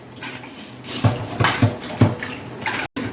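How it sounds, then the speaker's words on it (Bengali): Rohu fish is rubbed and rinsed with salt and turmeric in a home kitchen, with wet handling, splashes and a few clinks of a pot or bowl, close and fairly quiet. "মাছটা আমি হলুদ নুন দিয়ে আমি ভালো করে ধুয়ে নেব"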